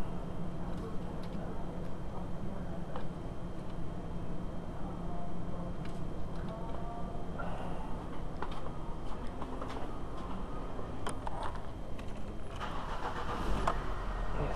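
A Volkswagen 2.0L ABA four-cylinder engine in an Audi A3 cranks briefly, roughly two and a half turns, then catches and settles into a steady idle. The sound is moderately close and runs continuously, with faint voices in the background.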